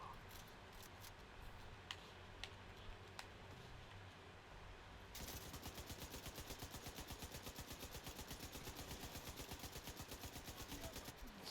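Rapid automatic gunfire in Tom Clancy's The Division 2, steady bursts of evenly spaced shots dominating the second half after a stretch of scattered single cracks and game ambience.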